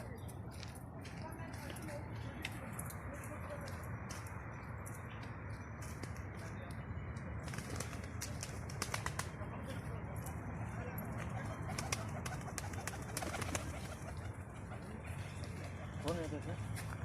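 Pigeons coo softly amid steady outdoor background noise, with a few brief bursts of flapping wings partway through.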